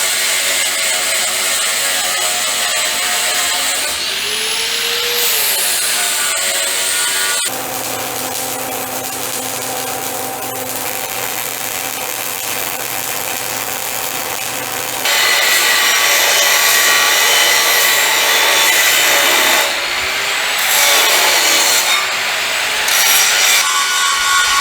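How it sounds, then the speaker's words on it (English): Angle grinder working down a weld on a homemade gooseneck trailer, a loud sustained metallic whine and grinding roar that shifts in pitch as it bites, several continuous passes with no talking. "Let me do a little grinding."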